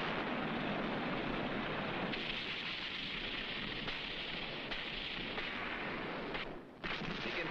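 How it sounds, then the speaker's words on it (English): Heavy naval guns firing in support of infantry during a Pacific island assault, a dense continuous roar of distant bombardment rumbling like thunder, loud and steady with one brief dip near the end. "The infantry had to have support from heavy naval guns, cover from shipborne aircraft."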